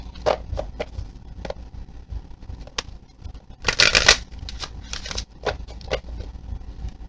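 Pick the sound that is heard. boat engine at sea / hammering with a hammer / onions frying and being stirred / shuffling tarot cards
shuffling tarot cards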